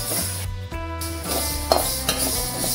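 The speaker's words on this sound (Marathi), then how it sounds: "ही मेथी सुद्धा आपल्याला अशी भाजून घ्यायची आहे." Fenugreek seeds are dry roasted in a pan, stirred with a spoon that scrapes and rattles them against the hot metal, giving a close, gritty rustle with a couple of sharper knocks.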